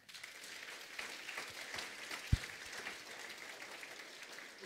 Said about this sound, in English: I believe we can clap for them